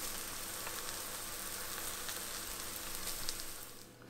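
Eggs cooked with kimchi sizzle steadily in a hot pan, a dense, even crackle of frying that stays close and continuous throughout with no voices over it.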